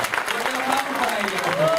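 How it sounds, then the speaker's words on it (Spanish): Brief burst of dense applause from an audience at a DXN Ganoderma health talk, steady clapping with voices mixed in, loud and continuous throughout. "me gustaría que le dieran un fuerte aplauso a Madame DXN."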